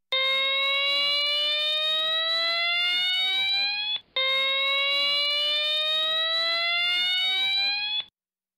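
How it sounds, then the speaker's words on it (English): A loud electronic siren sweeps upward in rising tones, sounding in two long cycles with a brief gap between them, like a fire evacuation alarm. "Here is a demonstration of what the fire evacuation siren sounds like."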